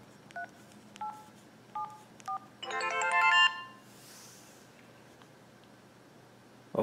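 Keypad tones on a Sanyo SLP-2400 cell phone as a lock code is entered: four short separate beeps, then a brief, louder burst of rapid tones, heard close up in a quiet room.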